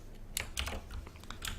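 Keys are tapped on a computer keyboard while code for an Arduino Starter Kit temperature sketch is entered, a close series of quick, irregular clicks over a quiet room hum, with no talk.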